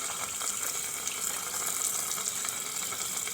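Tap water running steadily into a sink while ducks are washed in it, a constant close gushing hiss with no talk.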